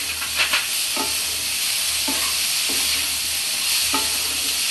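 Cumin, coriander powder and tomato fry in a pan for a Bengali radish-greens curry, a loud continuous hissing sizzle broken by a few spatula scrapes spaced about a second apart, close up with no voices.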